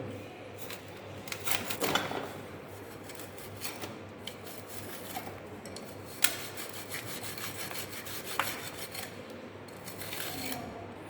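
Excess compacted soil is scraped and trimmed off the top of a Proctor compaction mold in a lab. A steady gritty rubbing and rasping continues throughout, broken by sharper scraping strokes and a few clinks, with no talking.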